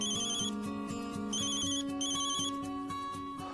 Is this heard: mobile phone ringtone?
yes